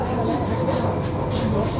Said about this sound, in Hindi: हम राजीव चौक से मेट्रो चेंज करने जा रहे हैं